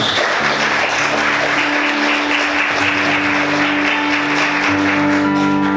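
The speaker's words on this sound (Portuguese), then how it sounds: "Você pode aplaudir o Senhor nessa manhã, queridos?" Church congregation applauding during a Sunday morning service, a dense wash of clapping that continues steadily for several seconds beneath sustained low organ-like tones.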